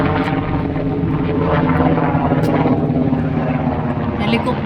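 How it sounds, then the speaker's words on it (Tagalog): A helicopter drones steadily with a low, constant rotor and engine rumble that stays strong throughout, while people talk over it outdoors in Japan. "Helicopter ng kwan."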